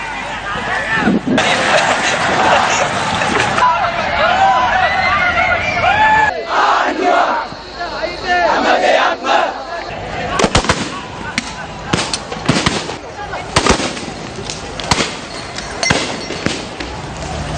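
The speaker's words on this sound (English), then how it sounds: "The police fired tear gas once again as the protesters were attempting to reorganize" Police fire tear gas at protesters during a street clash, with a shouting crowd followed by a series of loud, sharp bangs and pops scattered over several seconds amid the noise of people.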